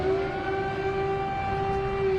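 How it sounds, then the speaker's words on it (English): An air raid siren in Kyiv, Ukraine, wails in a steady, sustained tone, heard from a distance and continuing unbroken through the short stretch with no speech. "The hum of air raid sirens"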